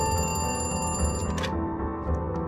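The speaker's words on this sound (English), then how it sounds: "And then the next day, I got a phone call" A telephone rings with a steady, bright tonal ring that holds across the whole short stretch, fairly close and alone, with no voices.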